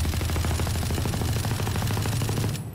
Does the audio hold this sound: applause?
no